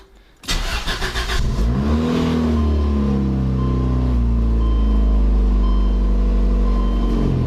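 A Federal-spec Lotus Elan M100 engine cranks and fires on a cold start, then flares to a high, steady idle that keeps droning loud and close, with no voices over it.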